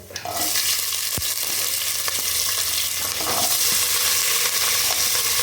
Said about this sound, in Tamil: கடலைப்பருப்பு உளுந்து போட்டுக்கலாம் வெங்காயம் போடுறேன்